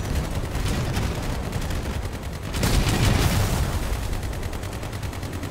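Sustained gunfire from vehicle weapons in the combat game Crossout, a dense continuous rattle of shots that swells louder midway and keeps going without pause.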